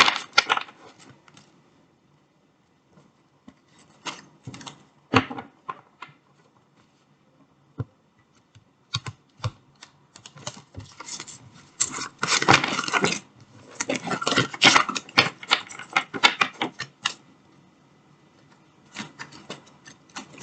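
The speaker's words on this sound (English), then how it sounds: "it's so really difficult to shuffle this deck like that" Bursts of crisp rapid riffling and soft flicking of a deck of reading cards, coming in several spells with quiet pauses between, close by and with no voices.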